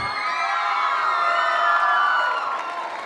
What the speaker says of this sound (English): One more round of applause for your finalists.